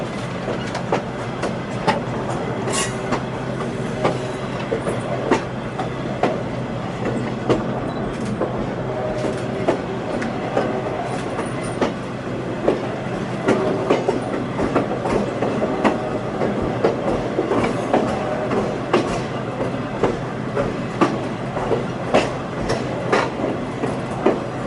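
A Western Maryland Scenic Railroad train rolls steadily along the rails around a curve, with continuous rumble and repeated clicking of wheels over rail joints for about twenty-five seconds.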